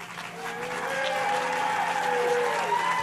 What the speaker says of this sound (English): President Obama received a big ovation from the partisan crowd